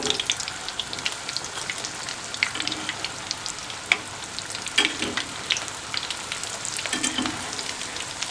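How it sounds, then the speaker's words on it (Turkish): A steady, gentle sizzle of breakfast pastries frying in a pan, with scattered pops and crackles and a few soft clinks, no voices. "Alt üst nar gibi kızartalım alt tarafı kızaran kahvaltılıklarımızı ters çevirelim"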